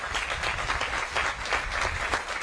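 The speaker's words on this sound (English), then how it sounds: "So how about a round of applause for makalapua?" Applause from an audience at a government housing announcement in Maui, steady dense clapping throughout the short stretch with no talking over it.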